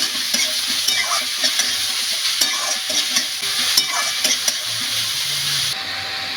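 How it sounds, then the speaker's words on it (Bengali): Chopped bottle gourd tossed into hot mustard oil tempered with dried red chillies sizzles loudly and continuously, with steady scraping and stirring strokes in the pan close by. "এবার কেটে রাখা লাউ দিয়ে দিচ্ছি। ভালো করে একটু নাড়িয়ে চাড়িয়ে মিশিয়ে নিচ্ছি।"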